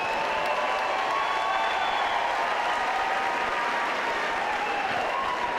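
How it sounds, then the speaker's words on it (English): A fight-event crowd applauds both fighters after the bout, sustained clapping and murmuring cheers filling a large room evenly throughout, with no voice rising above it. "Ladies and gentlemen, a round of applause for both fighters."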